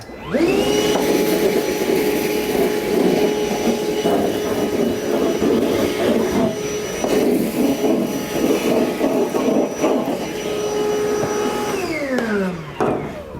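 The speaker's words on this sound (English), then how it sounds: "We'll now vacuum up the mess we made." A vacuum cleaner roars on, drones loudly and steadily for several seconds with rattling debris, then winds down as it switches off.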